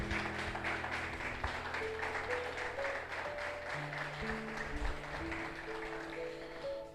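Congregation in a Spanish-language church service clapping for the Lord, rhythmic claps running under sustained organ or keyboard chords, fairly loud and steady.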